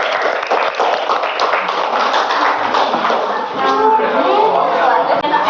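Classmates in a school classroom clap for a presenting group: close, loud, rapid hand claps run throughout, mixed with chatter and voices that rise toward the end.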